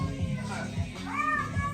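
A black cat lets out a couple of drawn-out meows close by, while a person talks at the same time.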